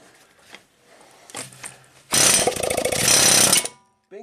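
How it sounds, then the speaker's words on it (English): Air hammer working loose a stuck CV axle on a high-mileage Toyota Sienna V6, a loud dense rattling burst of about a second and a half after a few quieter knocks and clatters, then stopping abruptly. "You want to position your air hammer so it doesn't like keep flopping around."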